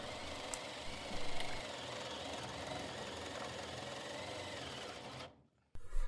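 A power drill bores through a piece of 4x2 timber with a steady, loud motor whine and grinding bite that runs for about five seconds, stops abruptly, then restarts briefly.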